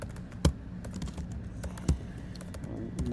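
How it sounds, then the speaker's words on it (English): Typing on a computer keyboard: a run of light clicking keystrokes with a few sharper, louder taps, close by in a quiet room, with no talk over it. "I'm not typing very well today."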